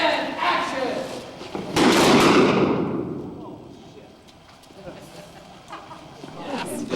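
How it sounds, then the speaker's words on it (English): A loud, sudden pyrotechnic blast on a studio film set with a broad roar at about two seconds, decaying into a rumbling wash, with scattered background noise and smaller bangs afterward. "after that spectacular blast, the pyrotechnics crew is busily at work trying to make this thing work"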